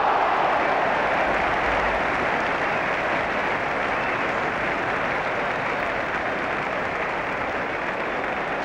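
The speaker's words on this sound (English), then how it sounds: "Tremendous applause" A football crowd at an FA Cup match applauds in a dense, sustained wash of clapping that stays even and loud from start to finish.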